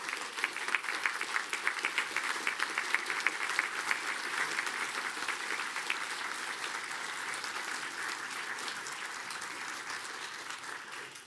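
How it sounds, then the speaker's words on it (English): A large graduation ceremony audience at Griffith College applauds warmly, an even, continuous patter of many hands clapping in a hall, sustained for over ten seconds and fading slightly toward the end. "express thanks for the support that you've received over the years by acclamation, applause,"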